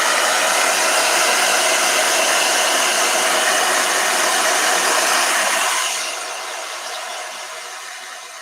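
A hair dryer blows with a steady, loud broadband whoosh, then drops to a lower setting for the final couple of seconds.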